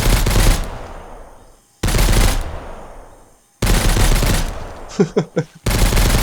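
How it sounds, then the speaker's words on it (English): Gunfire in the survival video game Mist Survival comes as three loud automatic bursts, each trailing off into a fading echo, with a few quick single shots between the last two bursts. "Oh, he's shooting at the dead body."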